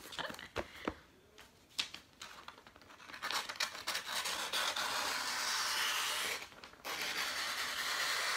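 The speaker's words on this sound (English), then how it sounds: "I'm using my eyebrow scissors because I can't find other scissors." Paper crinkles and scrapes as small eyebrow scissors snip through wrapping paper, a few sharp cuts at first, then a steady rustling stretch nearby.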